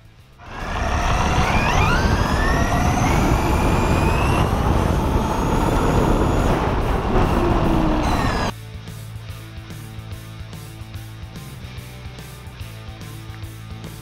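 A Traxxas E-REVO 2.0 6s RC truck runs flat out in a muddy bash, its electric motor screaming loudly with rising whines for several seconds before cutting to a quieter, rhythmic ticking background.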